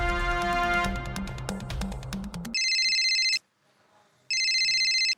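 A phone rings in a sitcom household scene after some background music, with two bursts of electronic ringtone separated by a short silent gap.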